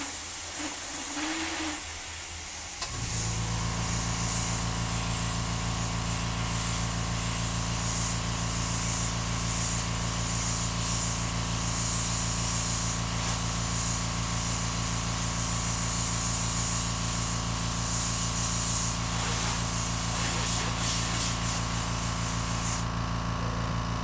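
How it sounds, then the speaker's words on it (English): Aerosol spray paint is applied over a custom stencil in a studio, a steady close hiss that starts after a few seconds of quieter handling and runs on without a break. "That's the sound of the stencil picking up."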